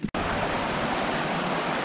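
Hurricane Creek runs at a trail creek crossing along the Ozark Highland Trail, giving a steady, loud broadband rush of flowing water that fills the clip after a brief dip at the start.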